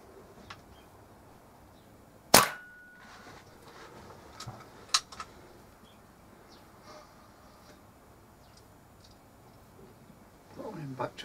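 Single sharp crack of a Kral NP500 air rifle shot, loud and close, followed by a fainter click and some handling noise near the end in an otherwise quiet setting.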